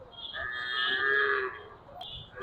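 A cow gives one long, loud moo at a busy cattle market, close by, with a low crowd murmur underneath.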